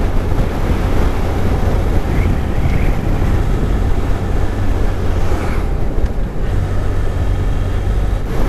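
Motorbike riding along a busy arterial road in the Peak District, a loud, steady rush of wind buffeting and engine rumble, close and continuous with no talking.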